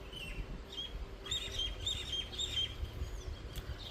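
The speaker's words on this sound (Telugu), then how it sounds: "ఇక్కడ ఉంటే భలే పక్షుల సౌండ్ మార్నింగ్ అయితే ఎంత బాగా వస్తాయి కదా" Several small birds chirp in short bursts against a low, steady background hum; the calls are light and moderately distant.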